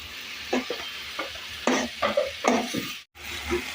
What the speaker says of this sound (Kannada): ಇದ್ರ ಜೊತೆಗೆ ಸ್ವಲ್ಪ ಶುಂಠಿ ಬೆಳ್ಳುಳ್ಳಿ ಪೇಸ್ಟ್ ಹಾಕೋತಾ ಇದ್ದೀನಿ ಹಸಿ ಸ್ಮೆಲ್ ಹೋಗೋ ತನಕ ಚೆನ್ನಾಗಿ ಹುರ್ಕೋಬೇಕು